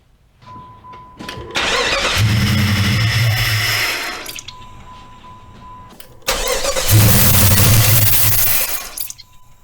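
A Jeep or Dodge 3.7 or 4.7 engine, uncovered during rocker arm installation, cranks and catches twice, each time roaring up loudly and running for a couple of seconds before dropping back to quiet.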